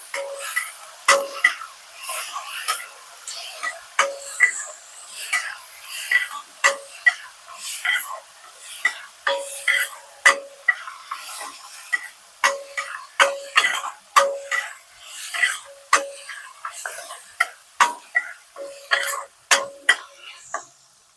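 Pork roast stirred and mixed in a pan, a steady run of sharp, close clicks and taps from the utensil against the pan, irregular but continuous, with a faint steady tone underneath and no talking.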